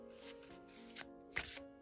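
Oversized cards of thick, high-quality cardstock are riffled and shuffled by hand at close range, giving soft repeated flutters and two sharper snaps of cards falling together, with no one talking.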